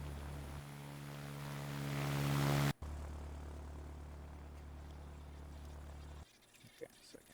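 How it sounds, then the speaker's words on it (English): Propeller planes in the video game Ground of Aces heard returning to base, a steady droning engine hum that swells, cuts briefly and continues before dropping off, with someone talking over it. "And the planes are coming back."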